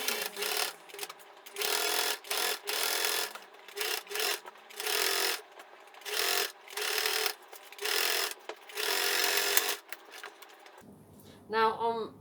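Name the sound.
sewing machine stitching fabric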